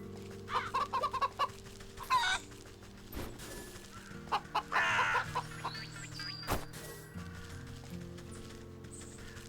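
Chickens cluck in the video game Wytchwood, short clucks and bursts come and go over a soft droning game music bed, with a few clip-clop-like taps and one sharp knock.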